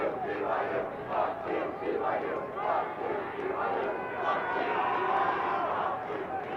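A crowd at a college lacrosse game between Brigham Young and Colorado State cheers and yells in rising and falling waves, fairly loud and sustained, with a commentator talking over it.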